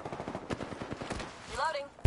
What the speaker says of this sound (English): Taking shots here.